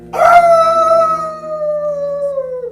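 A performer in an improv theatre scene imitates a wolf with his voice, a loud, sustained howl that starts high and slides slowly downward, heard alone and close up.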